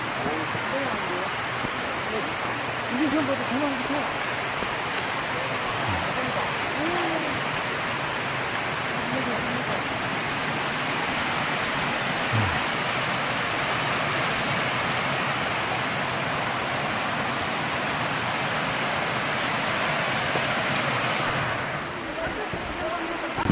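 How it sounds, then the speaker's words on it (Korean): A roughly 80-metre waterfall on a mountain ridge hike in Korea roars as a dense, constant broadband rush, loud and close, with faint voices briefly under it. "이게 유한청 폭포래요. 한 80m? 80m 길이가 되는 것 같아요."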